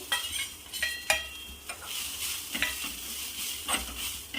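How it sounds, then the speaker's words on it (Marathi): Spices for sambar fry and get stirred in a pan while making moong dal vadi, a steady close sizzle broken by scraping stir strokes and light clinks of utensil on metal, with no talking. "आणि यामध्येच आपण सांबार थोडा फ्राय करू"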